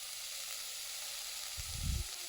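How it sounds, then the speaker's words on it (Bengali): Chopped cabbage and green chilli frying lightly in a pan for chicken momos, giving a steady soft sizzle with a brief louder burst of stirring or sputtering near the end. "দিয়ে এটা হালকা পরিমাণে একটু ভেজে নেব।"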